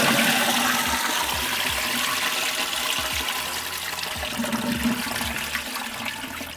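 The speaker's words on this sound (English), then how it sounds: "give this a test flush manually" A concealed toilet gets a manual test flush during a plumbing repair, giving a steady, loud rush of water that holds for several seconds and eases off only slightly, with no talking over it.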